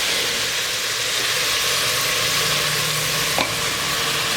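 Chopped onions softening in hot oil in a pan, a steady, close, dense sizzle that holds level throughout, with one brief scrape from stirring near the end and no talking.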